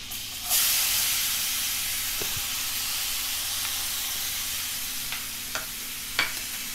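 Chopped onions for pav bhaji frying gently over low heat in a pan, a steady close sizzle and hiss with a few brief clinks and stirring taps.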